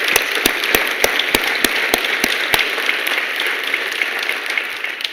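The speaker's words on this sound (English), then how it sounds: "I think we should all give ourselves a great round of applause here for this." A university plenary audience gives a round of applause, a steady dense patter of many hands with a few sharp, regular nearby claps standing out in the first half, continuing evenly to the end.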